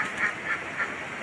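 Domestic ducks quack in short, evenly spaced calls as they are herded home in the late afternoon, three or so nasal quacks heard at moderate distance.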